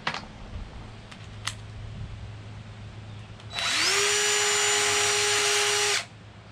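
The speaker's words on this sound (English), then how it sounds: "That's a little tip for cleaning out a nut driver. Just spin it like that." A power drill spins a 5/16 nut driver to clear out shingle granules: a few light clicks, then a loud, close motor whine that spins up, holds steady for a couple of seconds and stops abruptly.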